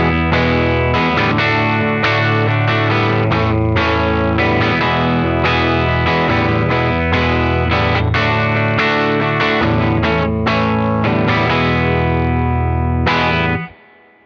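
Heavily distorted electric guitar through a DiMarzio Super Distortion bridge pickup plays loud, sustained chords and riffs for about fourteen seconds, then cuts off abruptly at the end.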